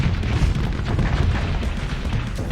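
Missile explosions in the space combat game Starsector, with the Nexerelin mod: a continuous low rumbling barrage of overlapping booms and bursts, loud and dense throughout.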